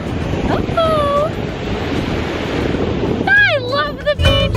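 Ocean surf on a Miami beach, a broad continuous wash of breaking waves and wind, loud and close, with excited voices whooping and calling out over it near the start and again toward the end.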